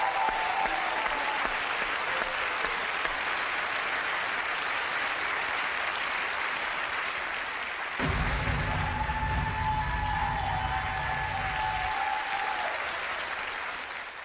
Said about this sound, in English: give the team out there a big round of applause